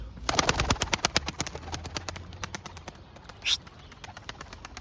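Pigeons, including a white-winged tumbler, released to fly outdoors, producing a rapid series of sharp wing claps and flapping bursts that fade in strength, with a brief bird call partway through.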